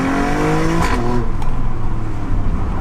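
An Alfa Romeo Stelvio Quadrifoglio SUV engine revs hard in first gear between walls that throw back an echo, its loud rising note climbing and then dropping away into a rough, rumbling idle.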